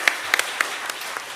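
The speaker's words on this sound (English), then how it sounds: "That's worth clapping for" An audience at a school board meeting applauds briefly, a moderate spatter of scattered claps over room noise lasting about a second.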